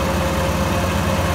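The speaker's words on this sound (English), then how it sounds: "I'm basically idling this tractor" A tractor engine idles steadily while driving a sprayer pump, a loud, close, continuous low rumble with an even droning tone and no pauses.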